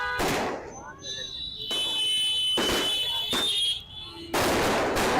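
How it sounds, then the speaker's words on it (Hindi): Firecrackers burst loudly and repeatedly, with sharp cracks and crackling alongside whistling, shrieking fireworks, as party workers celebrate an election win at Kargil Chowk in Godda; close and dense. "गोड्डा के कारगिल चौक पर पार्टी कार्यकर्ताओं ने पटाखे फोड़कर खुशियां मनाई है।"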